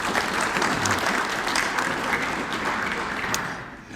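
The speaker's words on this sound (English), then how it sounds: "Please give yourself a round of applause for your participation." Audience applause at a Commerce City civic address, a full room clapping steadily and densely for about four seconds before tapering off quickly at the end.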